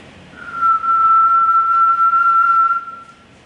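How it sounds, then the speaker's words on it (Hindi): A single steady, high tone is whistled through pursed lips, held for nearly three seconds before fading, clear and close over a quiet background. "लेकिन जब भी आप विशलिंग करोगे, सीटी बजाओगे, तो आपके लिप्स को पास में आना पड़ेगा"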